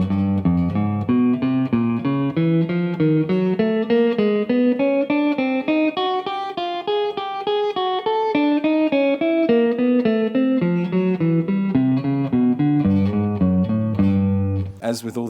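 An electric guitar plays a spider finger exercise with slow alternate picking: a steady, even run of single picked notes climbing and descending the neck, played alone at a consistent moderate volume.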